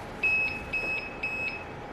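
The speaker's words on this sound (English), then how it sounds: "it might be beeping at me because it's low battery and can't start" Three evenly spaced high-pitched electronic beeps from a Bissell SpinWave robot vacuum with low battery, each about a quarter second long, sounding clearly over a quiet room background.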